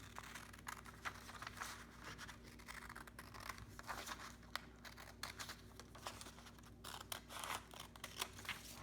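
Scissors snip repeatedly through a paper template for a folded flexigon aeronautics craft, producing a steady run of close, crisp cuts and light paper rustling with no talking.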